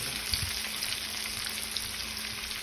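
A salmon fillet being flipped in a pan for honey garlic glazed salmon gives off a soft, even, continuous sizzle, fairly quiet and close, with faint occasional crackles.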